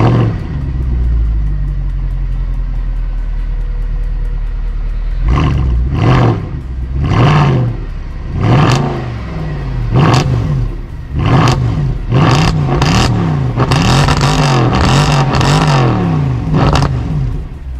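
A Mercedes C63 AMG's 6.2-litre V8 idles with a deep rumble through its AMG sports exhaust, then is blipped in a series of sharp, loud revs, some quick and clustered, others spaced apart, with no talking.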